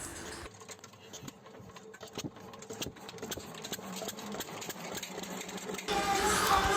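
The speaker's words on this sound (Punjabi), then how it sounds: "ਲੋ ਜੀ ਵੇਲਣਾ ਹੋ ਗਿਆ ਸਟਾਰਟ" An engine-driven sugarcane crusher runs with a steady mechanical engine drone and rapid rhythmic clatter throughout, close by, growing slightly louder near the end.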